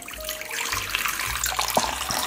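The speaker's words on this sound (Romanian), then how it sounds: "Pun apa călduță în castronul robotului." Lukewarm water poured into a stand mixer bowl for activating yeast in a home bread recipe, a steady close splashing stream lasting a couple of seconds with a faint clunk near the end.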